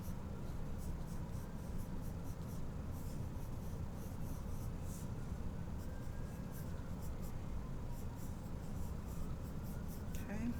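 A pencil sketches the outline of a toy car on paper, giving a steady, continuous scratchy rubbing close to the mic, uninterrupted for the whole stretch with no talk over it.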